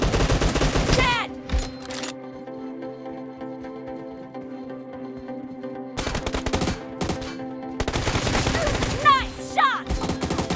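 Rapid bursts of automatic gunfire in PUBG Mobile crack out at the start and again near the end, separated by a quieter stretch of game music and ambience.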